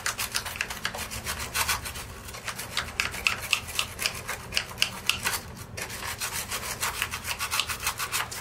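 Close, steady back-and-forth scrubbing of a brush working between the parts of a disassembled bidet during cleaning, with a rhythmic rasping that carries on without pause and no talking.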